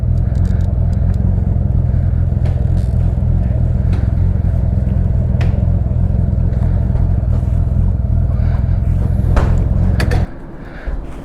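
A Honda Goldwing GL1500 motorcycle riding on local roads, its engine giving a steady deep rumble close up with wind noise, then cutting off abruptly near the end.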